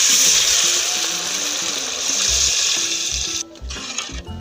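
Water pours steadily into a pot for ghee rice with a hissing gush, then stops near the end, followed by a few soft clunks.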